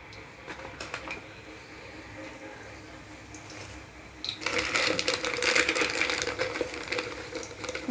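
Cumin seeds are added to hot oil already holding mustard seeds, and the pan breaks into a dense crackling sizzle with sharp pops, close by after a quieter start.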